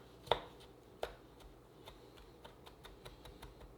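A knife chops leftover chili pepper finely on a cutting board: two sharper knocks open the clip, then a run of lighter, quick, regular taps follows, close and fairly quiet.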